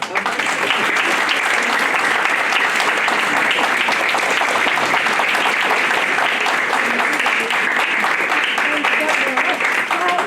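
Sustained audience applause at an evangelization teaching gathering, loud, dense and steady for about ten seconds, with no speech over it.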